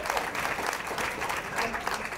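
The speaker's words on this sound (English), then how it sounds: "Do I get a second for claps?" Audience applause at a Republican primary U.S. Senate candidate forum in Fairfax, a steady wash of many hands clapping throughout, fairly distant and even, with no voice over it.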